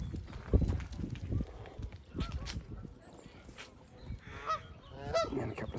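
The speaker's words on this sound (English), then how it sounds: "And here we see a load of the geese again." A flock of geese at a nature reserve, honking in scattered calls of varying loudness, some close and some farther off, over outdoor background noise with no talking.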